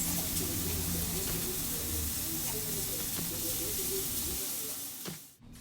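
Chopped onions, two cloves of garlic and carrots sizzle steadily in a pot, a continuous hissing fry that holds evenly before cutting off abruptly near the end.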